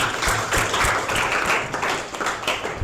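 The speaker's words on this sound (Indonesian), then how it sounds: "Tepuk tangan untuk kita semua." A group claps at the end of a classroom presentation on Islamic preaching, a lively, uneven patter of hands that swells and dips for a few seconds with no talking.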